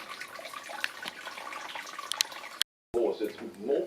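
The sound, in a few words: sparge water trickling into brew pot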